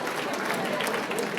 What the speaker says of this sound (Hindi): बहुत अच्छा, ताली बजा देंगे।